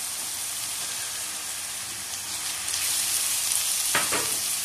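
Onions fry in hot oil with chopped tomatoes tipped in for an arvi masala, a continuous near hiss that grows louder partway through, with a brief wet splash and crackle near the end.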